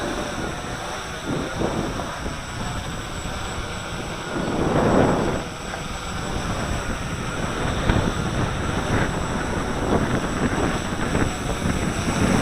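A Walkera QR X350 quadcopter drone hovering outdoors, its steady motor whine buried in continuous wind buffeting on the microphone, with no speech.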